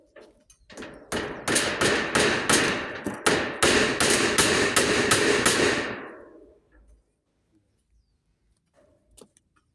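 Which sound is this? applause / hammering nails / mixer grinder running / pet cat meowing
hammering nails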